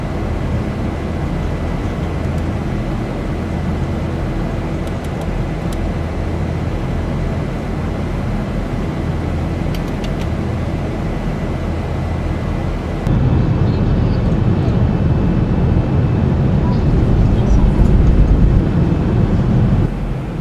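Steady cabin-level jet engine drone from a Boeing 737-800 on approach to land in X-Plane 11, flying a Gol route into Rio de Janeiro Galeão runway 28, a continuous roar that deepens and grows louder partway through.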